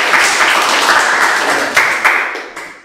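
A small classroom group gives a short round of hand clapping, dense at first and then thinning to a few final claps, moderately loud with no talk.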